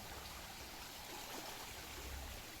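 A flowing stream at a crab-hunting spot gives a soft, continuous rushing and trickling wash, faint and steady throughout with no voices.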